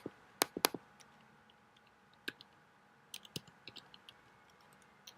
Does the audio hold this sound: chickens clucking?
no